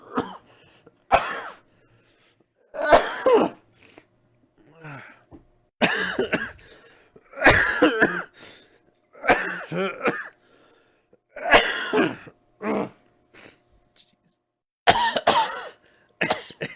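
Repeated bursts of a man coughing and clearing his throat during a podcast recording, several separate coughs spread across the stretch, close and fairly loud with short silences between them.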